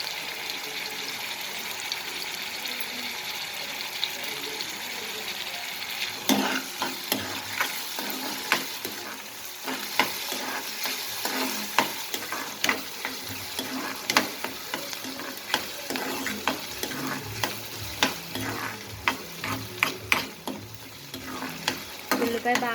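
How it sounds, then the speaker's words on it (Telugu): Chopped onions sizzling steadily in oil in a pan for a flat bean curry, with a spoon scraping and stirring in frequent sharp clicks against the metal, close and fairly loud throughout with no voices. "ఉల్లిపాయ బాగా వేగనివ్వండి."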